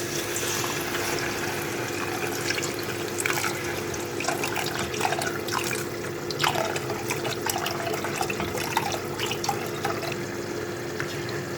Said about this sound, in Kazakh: Енді шетінен сүтімізді құя отырып араластырамыз.